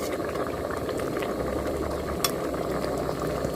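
Water pours and bubbles into a pot of bitter mushroom curry with chilies, a steady close liquid rush with a faint rattle and no talking.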